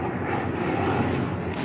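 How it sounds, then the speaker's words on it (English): Airplanes flying overhead, a broad steady engine roar filling the air continuously and loudly, with no talking over it. "I'm trying to count how many planes already flew by."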